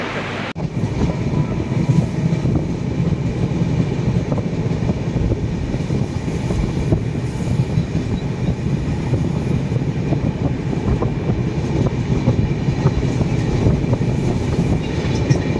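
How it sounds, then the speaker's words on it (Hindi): At Haridwar railway station in India, a train rumbles loudly and continuously close by, a dense low clatter of rolling wagons with no break, beginning after a brief moment of quieter sound. "अब हम लोग पकड़ेंगे ट्रेन।"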